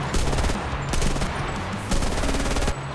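MP41(r) submachine gun firing in the World War II shooter Enlisted, rapid sustained bursts of automatic fire at a very high rate, loud and close, with a short pause between two long strings of shots.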